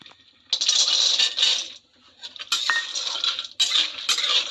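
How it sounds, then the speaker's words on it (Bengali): Almonds and cashews tipped into hot ghee in a pan for gond ladoo, giving bright clattering, clinking bursts as the nuts land and are stirred, in three separate spells with short pauses between. "ঘি গরম হয়ে গেছে এবার বাদাম আর কাজুটা আমি দিয়ে দিচ্ছি"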